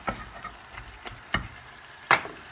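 Food frying in a pan after chopped onion goes in, with faint background sizzle and a few sharp scraping or stirring clicks, one louder near the end; no talk.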